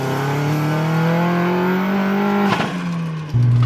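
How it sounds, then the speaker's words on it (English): Vauxhall Astra GSi turbocharged engine droning steadily from inside the car, pitch rising and then dropping back before a brief shift in tone near the end, loud and close with no talk. "That turbo just eggs you on constantly."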